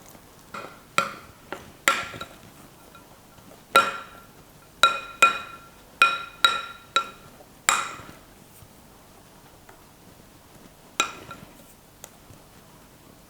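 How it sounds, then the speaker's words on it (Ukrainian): Pancake batter stirred in a bowl, the utensil striking the sides in a run of sharp, irregular clinks and taps with short pauses between them. "Добре перемішуємо, щоб було однорідне тісто без грудочок."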